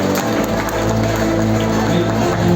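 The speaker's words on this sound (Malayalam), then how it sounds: "എല്ലാവരും കൈയടിച്ചേ" An audience at a public felicitation meeting of a government LP school claps together, a dense continuous patter of applause close by, with a voice over the hall sound.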